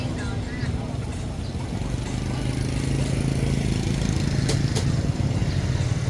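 A motorbike heavily loaded with goods moves along a busy Saigon street, its engine a steady loud drone amid dense traffic noise, with voices in the background.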